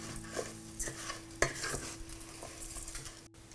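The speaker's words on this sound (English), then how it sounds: "After a few minutes that I've been stirring the rice, I'm going to add the garlic." A spoon scrapes and swishes steadily through rice in a pan while making mushroom risotto, with a soft sizzle beneath and a few sharper knocks against the pan's side.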